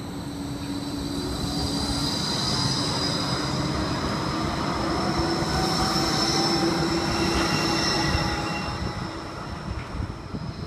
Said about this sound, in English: Broad Beach South service arriving.